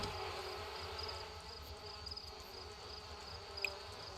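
Angry bees from beehives in The Sims 4 keep up a faint, steady insect buzz with a few brief higher whines drifting through.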